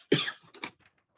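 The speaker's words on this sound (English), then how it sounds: "sorry, I got a cough." A single harsh cough bursts out close to the microphone, followed by a smaller second cough and brief throat noise, then quiet.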